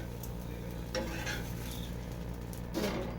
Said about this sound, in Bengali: দেখুন ভাজতে শুরু করে দিয়েছি